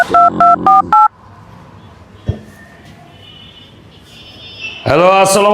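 A phone number is keyed in as a quick run of four or five close, loud dialing tones. A quiet pause follows, with a brief knock, and then a voice starts.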